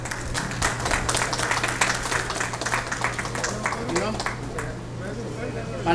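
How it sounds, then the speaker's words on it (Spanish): Applause at a civil registry ceremony handing out birth certificates to adults, moderate clapping from a gathered crowd with a steady hum underneath, tapering slightly toward the end. "Aplausos."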